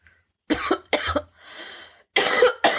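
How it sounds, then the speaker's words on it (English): Several harsh, close coughs come in quick bursts with a raspy breath between them, like a short coughing fit. "And we have our first coughing fit."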